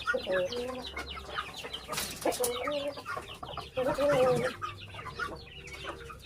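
A grey hen clucks repeatedly in short, uneven bursts close by, with other fowl calling around it on a farm and a brief louder squawk partway through.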